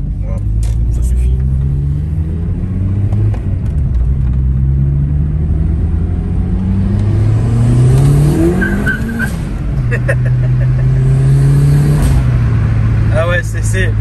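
A turbocharged car with an uprated clutch revs hard and runs at speed, its engine droning and rising in pitch with tire noise, loud and close, while people talk over it.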